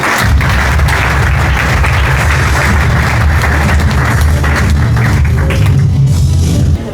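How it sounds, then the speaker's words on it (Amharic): A church congregation claps loudly and steadily for several seconds, a dense wash of applause with faint voices mixed in. "ለእግዚአብሔር ክብር አጨብጭቡ።"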